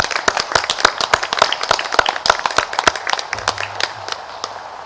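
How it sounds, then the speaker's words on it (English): Scattered hand clapping from the audience at a 2020 military high school graduation ceremony, honoring graduates' families; distinct individual claps, moderately close, steady and uneven in rhythm. "if we could please give your families a round of applause for all the hard work they put in to support you"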